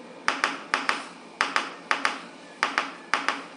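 Tapping imitating a fourth heart sound: crisp paired taps in a steady galloping rhythm, each pair close together with pauses between, near and clear without talk.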